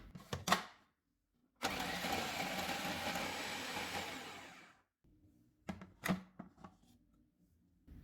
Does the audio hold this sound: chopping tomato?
yes